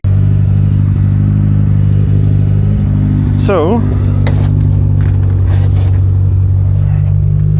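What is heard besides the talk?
old car engine running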